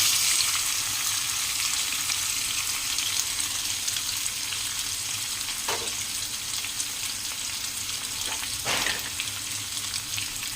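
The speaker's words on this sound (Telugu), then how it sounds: "ఆయిల్ హీట్ అయిన తర్వాత కాకరకాయ ముక్కలు వేసుకోవాలి." Pieces of bitter gourd fry in hot oil with a steady, dense sizzle throughout, broken by a couple of brief louder scrapes or stirs near the middle and end.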